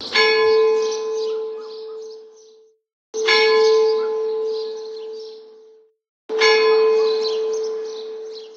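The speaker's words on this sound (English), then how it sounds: "So this is bells." Three struck bell samples played as a musical instrument, each a bright clanging strike with a long humming sustain that fades before the next, evenly spaced and loud with no other sound between.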